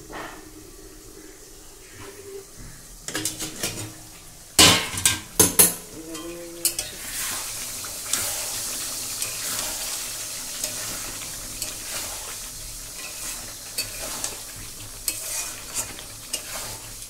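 Chicken pieces are stir-fried in a pan, with a soft sizzle running underneath and bursts of clattering as a utensil scrapes and stirs, loudest in the middle and then settling into a steady hiss.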